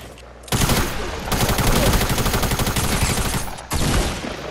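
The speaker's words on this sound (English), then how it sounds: "I'm getting shot at that building right here." Loud rapid automatic gunfire in the video game Fortnite at Tilted Towers, sustained bursts of machine-gun fire with a brief pause before resuming.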